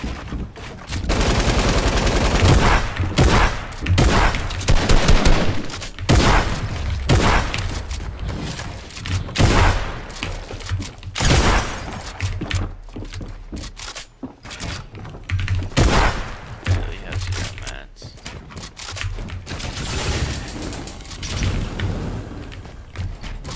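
Repeated gunfire in Fortnite, with bursts of rapid shots and single loud cracks recurring throughout, interspersed with thuds and brief gaps, loud and busy with no talk.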